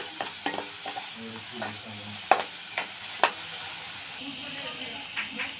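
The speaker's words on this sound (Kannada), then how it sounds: "ಇದರ ನಾವು ಈರುಳ್ಳಿಯನ್ನು ಹಾಕೋಬೇಕು, ಚೆನ್ನಾಗಿ ಫ್ರೈ ಮಾಡ್ಕೋಬೇಕು." Onions frying in a pan, a steady sizzle broken by repeated scraping stirs and a couple of sharper clacks of the spoon, close and fairly quiet.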